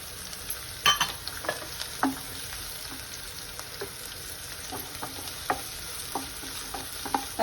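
Onion, green chilli and ginger frying in a pan for vegedi pasta, with a low steady sizzle broken by a series of sharp spoon-against-pan stirring knocks at an uneven pace, close by and with no talking.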